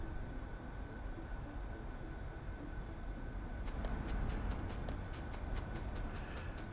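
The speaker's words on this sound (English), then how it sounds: "Oh, no, there's a train." A train rolls past in the Factorio factory-building game, a steady mechanical rumble joined midway by a quick run of rhythmic rail clacks that stay loud to the end.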